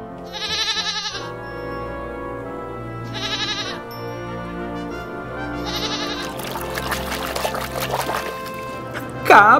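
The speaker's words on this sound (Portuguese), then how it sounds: "Cabra." A goat bleats three times, each a short wavering cry spaced a few seconds apart, followed by a burst of noisy rustling.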